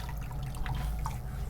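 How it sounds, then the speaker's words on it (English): Water is splashed onto a face by hand before a wet shave, giving a few soft, brief wet splashes and drips close by over a constant low background hum. "Put a little water on my face here and"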